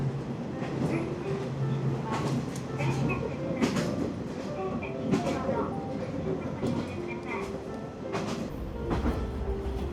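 A KiHa 47 local diesel train runs along the coast between Tottori and Toyooka, its steady rumble and rhythmic wheel clatter carrying on as a voice narrates over it.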